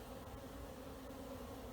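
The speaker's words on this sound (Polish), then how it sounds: "A same pszczoły to naprawdę się porozlatywały" A steady, dense buzzing of many bees flying about nearby, continuous and unbroken throughout.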